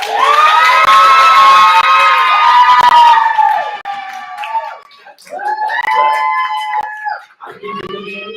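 An audience at a Berkeley poetry slam whoops and screams in loud cheering for about three seconds, then breaks into two shorter bursts of shouting and cheering. Individual voices rise out of the crowd, and no clear clapping stands out.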